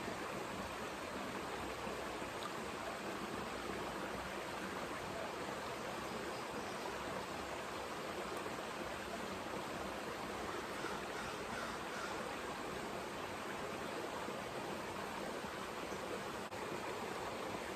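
Creek water flows steadily with a soft, continuous rushing hiss, quiet and unbroken throughout, with no voices.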